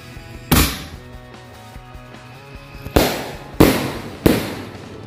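Special firecracker balls go off in four sharp, loud bangs, one early and three in close succession near the end, with a faint crackling hiss between them outdoors.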